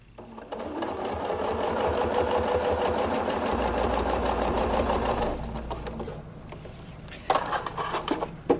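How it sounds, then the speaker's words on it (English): A sewing machine runs steadily for several seconds while stitching fabric guided along a quilting ruler for a table runner, then stops, followed by soft handling clicks and faint talk. "I'm going to stitch right to the corner"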